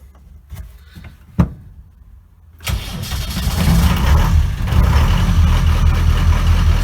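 A couple of clicks, then an old Land Rover engine cranks and catches, settling into a loud, rough, rumbling idle close by.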